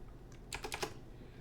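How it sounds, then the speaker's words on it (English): A short burst of keystrokes on a computer keyboard, four or five quick clicks bunched together, close and fairly quiet, with no talking. "This is not the best keyboard."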